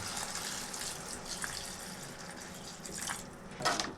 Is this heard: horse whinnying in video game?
no